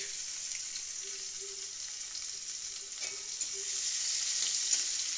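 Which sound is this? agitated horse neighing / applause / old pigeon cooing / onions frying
onions frying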